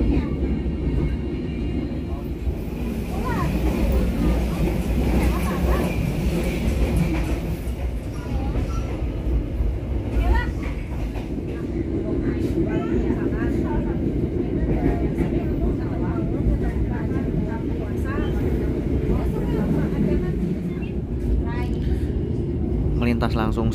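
The Ciremai executive train runs along the rails past Sukatani or Bendul station, a continuous rumbling roll heard from on board and building slightly in the second half, with no speech.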